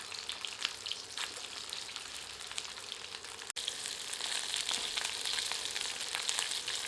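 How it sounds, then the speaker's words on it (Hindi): Chicken pieces being refried in hot oil to crisp the outer surface for a spicy ballistic chicken dish, a steady dense sizzle and crackle with scattered pops, close and continuous with a brief break midway. "तो इन टुकड़ों को पलटकर पुनः तलकर करारा कर लेते हैं।"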